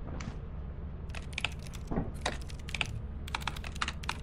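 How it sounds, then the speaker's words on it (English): Rapid keystrokes on a computer keyboard come in uneven bursts over a steady low hum from a Lethal Company game session, close and fairly loud, with short pauses between runs of clicks. "What you typing up over here?"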